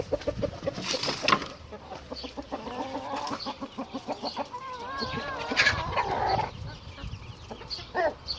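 Chickens cluck in an outdoor yard on a bad-weather day while being shooed along, with repeated nearby clucks and squawks in an uneven rhythm.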